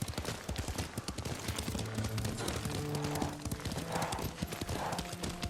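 Hooves clip-clopping steadily as a horse is ridden in the video game Ghost of Tsushima, a quick continuous beat close by, with faint whinnying and tones from the game mixed in.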